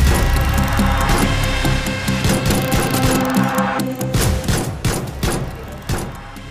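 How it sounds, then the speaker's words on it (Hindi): Gunshots fired by masked attackers at night ring out in a rapid, irregular volley of sharp cracks, loud and close, with no talking. "नकाबपोशों ने गोलियां बरसाईं।"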